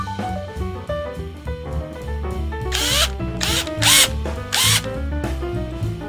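A power tool fastening a nut with a washer on the engine of an SA55 scooter that had been submerged in water, heard as several short loud whirring bursts over steady background music.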